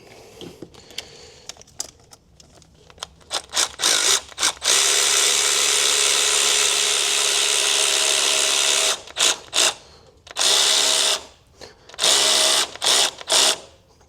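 A power tool tightens a bolt on a Ford 6.7 Powerstroke intake: quiet shop ticks, then several short buzzing bursts, a long sustained whirring run, and more intermittent bursts, close and loud.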